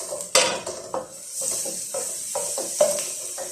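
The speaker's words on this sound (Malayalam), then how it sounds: "നന്നായിട്ടൊന്ന് വഴറ്റി കൊടുത്തിട്ടുണ്ട്." Chopped onions sauté in a pan for Chinese fried rice, with a soft steady sizzle under repeated scraping and tapping strokes of a spoon against the metal pan, close and clear.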